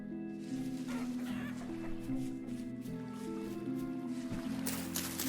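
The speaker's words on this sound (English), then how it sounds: "there happens to be a bunch of chickens around me" Chickens in the video game Vintage Story cluck in short, pitched bursts over a steady background drone, with several birds calling in a loose, uneven rhythm.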